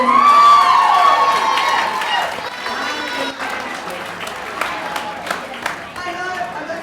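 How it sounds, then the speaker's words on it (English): Crowd at a fitness transformation awards event applauding and cheering loudly, with shouts and whoops at the start over dense clapping that gradually settles. "Give you a round of applause for Rosa."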